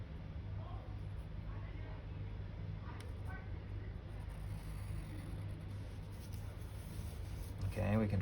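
A pencil scratches straight perspective lines across paper, with soft repeated strokes close up over a low background hum, and a voice talks at times.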